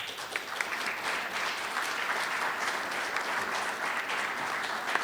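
Audience applause at a talk about the history of the Tour de France, a steady dense clapping that fills the whole stretch at an even level, with no voices standing out above it.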